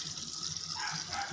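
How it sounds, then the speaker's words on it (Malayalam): Water gushes and splashes steadily into a jackfruit mixture in a Kerala village kitchen, a close, continuous pour lasting just over a second with a faint dog bark somewhere in the background. "വെള്ളം ഒഴിച്ചു കൊടുക്കാം."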